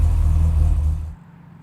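A 1968 Chevy Nova SS, clearly not fitted with its 230 inline six, gives a loud, deep engine rumble for about a second before it drops off to a quieter idle.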